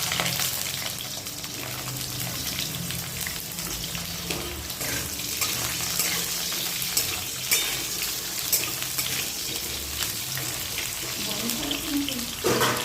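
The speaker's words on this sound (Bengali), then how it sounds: "তেলটা গরম হয়ে গেছে, এবার আমরা তেলের মধ্যে দিয়ে দিচ্ছি কেটে রাখা আলু।" Cut potatoes drop into hot oil for a Bengali milk shukto and fry with a dense, continuous sizzle and crackle, close and steady, with a voice talking faintly underneath.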